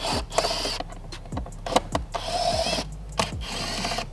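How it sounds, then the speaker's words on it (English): Screws being removed with an 8mm tool inside a MINI Cooper, a series of short, sharp clicks and ratcheting bursts with brief whirring pulses, close up and steady over a low background hum, no talking. "you're gonna remove a bunch of these screws here, starting with this one"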